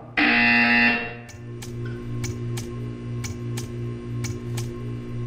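A loud electronic buzzer in Portal 2 blares for about a second, then a series of sharp regular ticks follows over a low steady hum.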